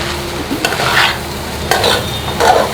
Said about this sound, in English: So you stir evenly.